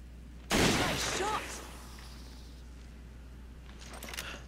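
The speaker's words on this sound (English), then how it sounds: "Let me just use my sniper." A single loud sniper rifle shot in Resident Evil 5, a sharp crack with a brief echoing tail that fades into a low steady background hum, with faint clatter near the end.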